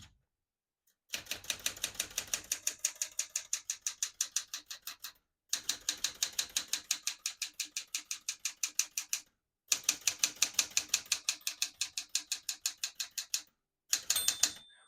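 Rapid, even clacking of the keys of a 1975 Smith-Corona Galaxie Twelve manual portable typewriter in three long bursts separated by short pauses, then a brief final flurry; crisp and close, no voices.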